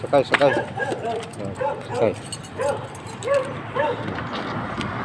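A dog riding along on a vehicle gives several short whimpering yips and barks close by, mixed in with people talking.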